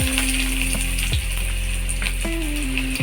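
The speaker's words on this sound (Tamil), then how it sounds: "வெங்காயம் சின்னதாக கட் பண்ணி வச்சுருக்கோம் பார்த்தீங்களா, அதை எடுத்து இந்த காஞ்ச எண்ணெயில் அப்படியே சேர்த்துடணும்." Finely chopped onions hitting hot oil in a pan for a prawn fry, giving a steady close sizzle with a few soft knocks and stirring sounds and a low hum underneath.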